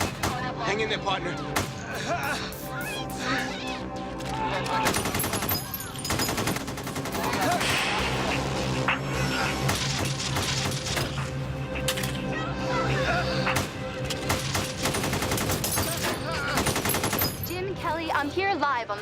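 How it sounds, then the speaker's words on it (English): Real gunfire crackles during the North Hollywood bank robbery, with sustained bursts of automatic and rapid shots echoing loudly through the street, nearly continuous throughout, mixed with faint background voices. "What you hear behind me is not coming from a movie set. It is actual gunfire."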